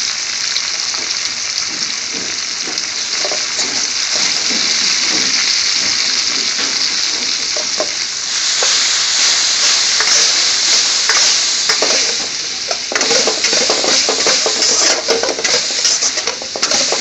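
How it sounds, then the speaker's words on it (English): Chopped onion hitting hot oil in a pan for a beans and potatoes dish cooked restaurant-style, with a loud, steady hiss of sizzling that swells partway through and carries occasional stirring scrapes, close up and without voices. "All the chopped onion goes in now."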